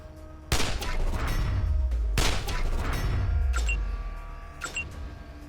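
Gunfire in the Wasteland 2 Director's Cut video game: two loud, sharp shots with booming low tails ring out a couple of seconds apart, followed by fainter metallic clicks.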